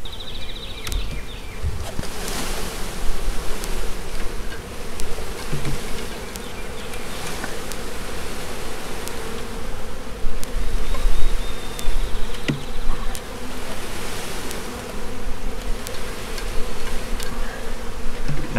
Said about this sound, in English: And now I want to gently shake out the majority of the bees.